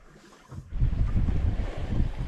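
Wind gusts buffet the microphone with low rumbling roar, rising after a quieter start, with faint water sounds from a sailboat moving under sail with the engine off, off Catalonia.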